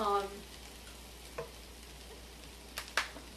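Garlic and ginger frying in a pan, a soft steady sizzle with a few sharp clinks and scrapes of a utensil, the last ones louder near the end.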